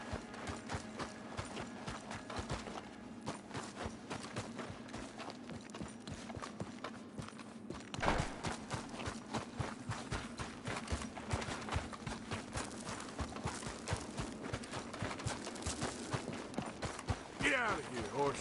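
Horse hooves clip-clopping steadily in the Red Dead Redemption 2 video game, a continuous rhythmic trot over a busy game soundscape, with someone talking over it.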